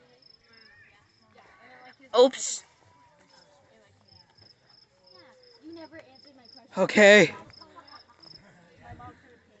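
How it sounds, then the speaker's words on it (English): A cricket chirps at night during a Fourth of July fireworks outing, a faint, steady pulsing trill running throughout, with voices and a couple of louder bursts of talk over it. "I hear a cricket chirping."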